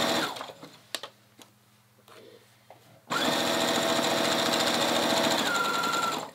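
A sewing machine stitches trench coat fabric, starting after a few quiet handling clicks and taps, then running as a loud, fast, steady mechanical whir for the last three seconds.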